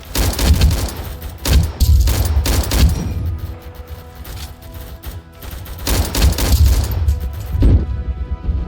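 Rapid gunfire bursts in the Vietnam War video game Rolling Thunder, loud repeated volleys and crashing blasts in irregular clusters throughout.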